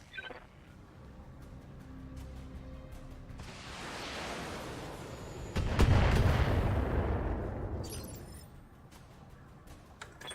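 Mech weapons fire in the BattleTech video game: a long roaring barrage swells over several seconds into a heavy booming impact around the middle, then fades, with a few sharper cracks near the start and end.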